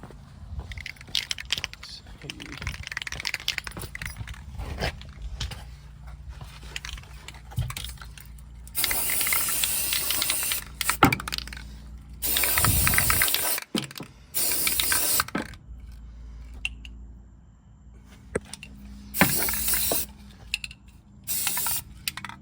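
Bursts of spray coating hit a Ford truck frame during cleanup, several loud hissing blasts of a second or two each, with clicking and shuffling work noises between them.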